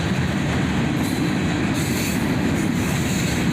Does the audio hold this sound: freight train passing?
yes